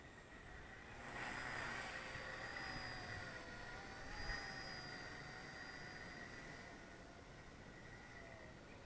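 A First Step Heli 101 6-axis gyro RC helicopter hovers outdoors, a thin, steady high-pitched motor whine with a faint rotor hum that swells slightly and drifts in pitch, no talking.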